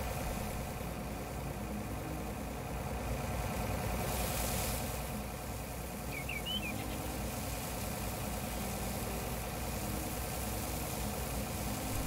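A combine harvester engine idles in Farming Simulator 19, a steady mid-to-low mechanical drone that runs evenly throughout with no talk over it.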